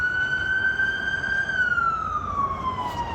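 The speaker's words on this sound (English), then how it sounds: "you got to get your sirens" A single police siren wails steadily and fairly close, its tone holding level then sliding slowly downward, heard alone over low traffic rumble with no talking.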